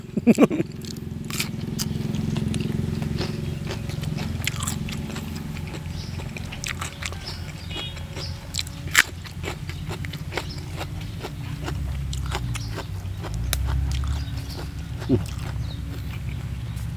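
Crunchy bitter gourd leaves chewed with spicy Thai pounded blue crab and fresh shrimp salad, an outdoor midday meal; close, repeated crisp bites and mouth noises run steadily over a low rumbling background.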